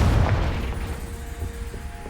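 A Confringo blasting spell goes off in Hogwarts Legacy: a single heavy boom up front that rolls into a long, fading rumble with faint tonal game ambience trailing underneath.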